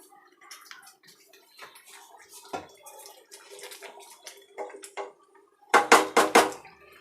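Water is poured into Punjabi-style chicken gravy in a pan. Light splashes and clinks are followed by a burst of four rapid, loud pouring splashes near the end, close by and without talk.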